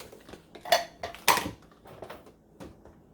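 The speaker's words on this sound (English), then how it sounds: "Okay, then I'll stir this up." Red beans and rice get stirred in a crock pot, a spoon clinking and scraping against the pot in a few sharp, close knocks over soft shuffling.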